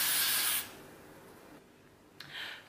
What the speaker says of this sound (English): So now, I'm gonna put a little bit more hairspray on.